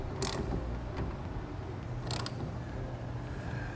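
Clamps on a TruXedo TruXport soft roll-up tonneau cover are being tightened, giving two brief ratcheting clicks over a quiet low background.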